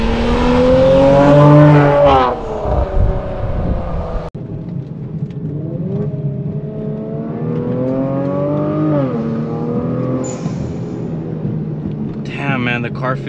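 Kia Stinger with a loud aftermarket exhaust on a canyon drive, heard from inside the car: a droning engine note rising and falling through revs, with a sharp break mid-clip and a brief whine near the end.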